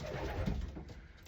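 Domestic pigeons, a breeding pair of fancy pigeons in a loft, cooing in low, throaty murmurs close by, with a steady bed of soft chatter from the surrounding birds and no talking.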